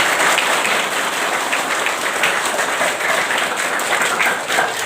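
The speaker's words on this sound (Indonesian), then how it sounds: "tepuk tangan dulu" Crowd applause rolls on steadily for nearly five seconds at a Maulid Nabi religious gathering, a close, dense patter of many hands clapping with no talk over it.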